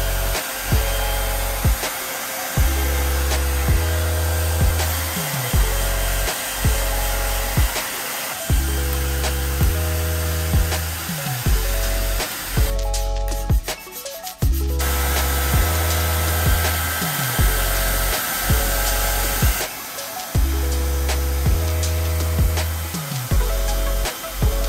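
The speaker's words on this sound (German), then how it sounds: "Also aufsetzen, rüberziehen und föhnen." A hair dryer heats protective film being applied to a Raymon FullRay or Propain Tyee bike frame, its steady whooshing roar switching on and off in repeated bursts, loud and close, with faint rubbing between bursts.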